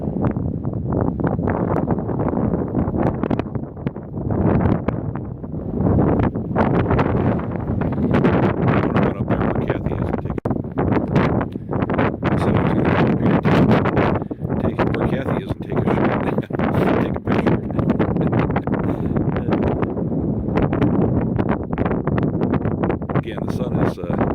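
Strong wind buffets a hilltop overlook at the Painted Desert, roaring and rumbling loudly and continuously into the microphone, with gusty swells throughout and a voice speaking beneath it.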